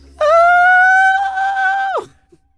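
A person screeches loudly in one long, sustained, high, wavering cry lasting nearly two seconds before cutting off abruptly, close and piercing, with no other talk.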